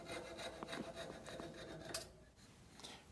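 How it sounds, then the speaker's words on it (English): Sandpaper rubs back and forth against the end of a wooden tool handle in quick, soft rasping strokes, quiet and close. "With a little bit of sandpaper, sanding the end nice and smooth."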